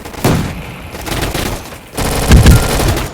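Bursts of rapid gunfire in a video game gun fight arena, two loud volleys with a brief lull between them, sounding close and dense like sustained automatic shooting.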